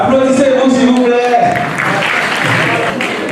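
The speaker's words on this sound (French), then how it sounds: "Applaudissez-vous s'il vous plaît" An audience at a live quiz challenge event in Paris breaks into applause, a broad clapping wash that swells in after a voice speaks over it, then continues steadily.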